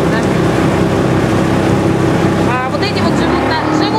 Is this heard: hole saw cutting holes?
no